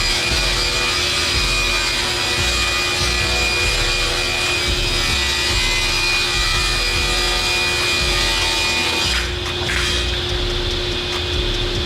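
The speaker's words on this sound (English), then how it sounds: "because it's a table saw, you get a perfectly wonderful rip cut and a nice smooth edge to boot" Table saw ripping a board of hickory, a loud continuous whine with a steady grinding cut throughout, changing briefly near the end as the blade clears the wood.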